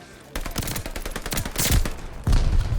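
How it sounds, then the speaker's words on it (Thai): Rapid bursts of gunfire in Call of Duty: Vanguard, dense automatic shots with heavy booming impacts, loud and close, continuing without pause. "การยิงปืนในเกมนี้"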